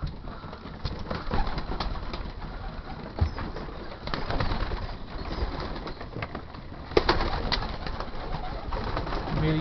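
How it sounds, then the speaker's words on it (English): Young racing pigeons in a loft cooing and murmuring continuously, a soft low chorus with occasional wing flaps and faint knocks, heard at a moderate distance without speech. "He likes to see his pigeons."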